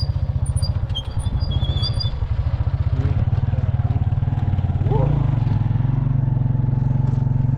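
A motorbike engine drones steadily and close while riding, with a heavy low rumble and rough rhythmic pulsing that swells slightly midway, and faint other sounds in the background.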